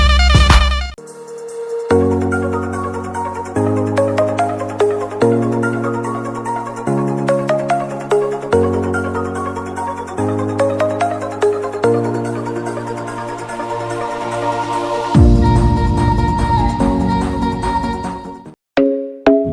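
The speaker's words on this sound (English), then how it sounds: "There's hot ringtones." Electronic phone ringtone melodies play loud and continuous, with repeating synthesized note patterns, a brief shift in tone near the end, then a short pause before a final burst.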